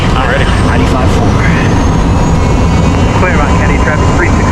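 A Cessna Citation jet heard from inside the cockpit during takeoff, a loud steady roar of engines and airflow with a high whine, while pilots talk over it.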